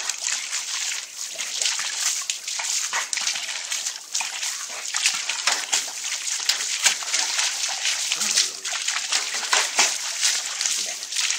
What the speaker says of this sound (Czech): Takhle se koupe náš milej pejsek.